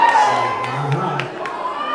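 A concert crowd cheers and shouts for an artist on stage, loud and continuous with whoops and high voices rising over a dense roar, and no clear separate clapping.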